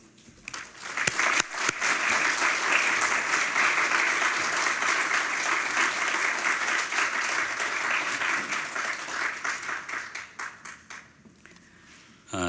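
An awards ceremony audience bursts into sustained applause to welcome a speaker, with dense clapping that holds steady for about ten seconds before thinning out and fading.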